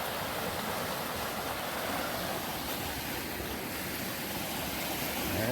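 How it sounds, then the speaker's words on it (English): The Quinapoxet River running high after heavy rain, a steady broadband rush of flowing water heard close and continuous, with no voices. "beautiful river"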